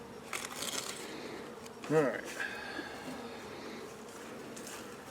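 Honey bees buzz around a nuc box being moved and divided, a continuous droning hum. A brief knock and one short spoken word cut through near the middle.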